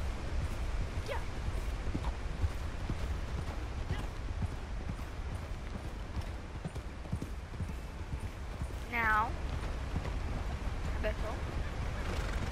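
Horse hooves clip-clop at a steady pace through Red Dead Redemption 2, running continuously under wind noise and someone talking throughout.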